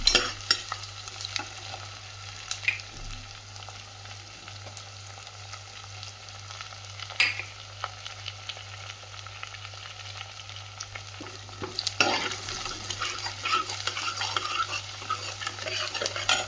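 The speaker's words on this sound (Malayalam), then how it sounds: "ചെറിയ ഉള്ളി ഇഞ്ചി വെളുത്തുള്ളി ഇവ മൂന്നും കൂടി ഒന്ന് ചതച്ചെടുത്തതാണ് അതും കൂടി ഇട്ട് കൊടുത്ത് നല്ലപോലെ ഒന്ന് വഴറ്റിയെടുക്കാം" Crushed shallots, ginger and garlic sauté in coconut oil for a Kerala fish curry, giving a continuous sizzle broken by clinks and scrapes of stirring that grow busier and louder near the end.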